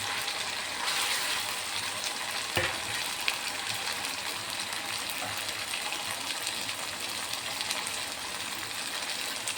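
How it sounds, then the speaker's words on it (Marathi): A tomato, garlic and cumin paste sizzles and fries steadily in a pan, a close continuous crackle with occasional stirring knocks and no talking. "टमाटर, टमाटर, लसूण जिराची पेस्ट छान शिजू."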